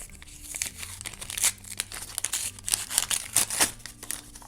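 Paper surprise packet being unwrapped by hand, with close crinkling, rustling and short tearing bursts in irregular bursts, no speech.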